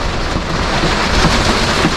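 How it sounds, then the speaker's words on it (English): Hail pelts down during a storm at a campsite near Lake Van, making a loud, dense, continuous pattering with no voices. "it's definitely hailing"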